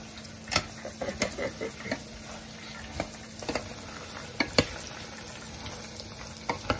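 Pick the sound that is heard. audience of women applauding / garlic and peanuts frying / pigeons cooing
garlic and peanuts frying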